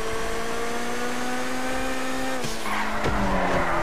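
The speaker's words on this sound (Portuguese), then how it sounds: "Fazendo uns drift lindo aqui." A car drifts through a race in the GTA V Online video game, its engine droning steadily while tires squeal and skid loudly, with sharper squealing bursts toward the end and no voices present.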